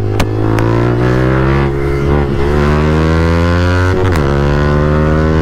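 Motorcycles at top speed in a race between a KTM Duke and a Royal Enfield, a loud, close, sustained engine drone with steady pitch and brief gusts of wind noise.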